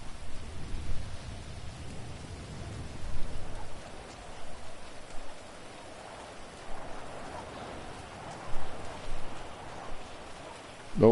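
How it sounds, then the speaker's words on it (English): Steady rain patters and hisses throughout an open-world GTA V Online street scene, a continuous wash of noise with no voices. "Besides, it's raining out."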